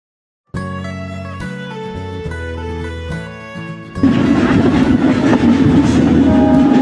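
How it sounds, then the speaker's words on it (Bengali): The down Nakshikantha commuter, bound for Khulna via Chuadanga, pulls into Poradaha Junction railway station: a loud tonal horn-like sound opens, then a heavy, close rolling rumble of wheels and carriages takes over and holds steady to the end. "down Nakshi Kantha commutator পোড়াদাহা junction railway স্টেশনে প্রবেশ করলো"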